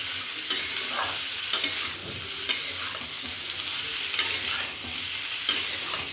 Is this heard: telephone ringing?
no